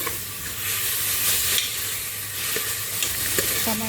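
Tomatoes fry in a pan for urad dal, giving a steady close sizzle and hiss with soft scraping of a spoon, and a few light clinks near the end.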